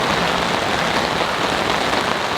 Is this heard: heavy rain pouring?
yes